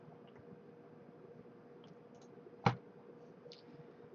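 A single sharp computer mouse click lands alone against quiet background hiss, near and brief.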